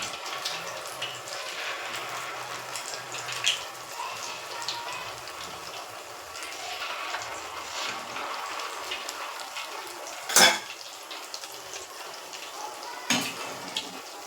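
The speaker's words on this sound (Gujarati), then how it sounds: "એક સાથે તેલમાં જેટલા સમાય એટલા પકોડા આપણે એડ કરી દઈશું" Pakoras frying together in a batch of hot oil give a steady, soft crackling sizzle throughout, with a couple of sharper pops and spatters standing out, and no voices.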